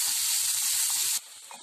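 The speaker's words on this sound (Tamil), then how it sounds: "ஃபர்ஸ்ட் நம்ம ஆனியனை ஃப்ரை பண்ணணும்" Onion frying in hot oil in a kadai, a loud steady sizzle with soft low bubbling pops that drops sharply to a quieter hiss partway through.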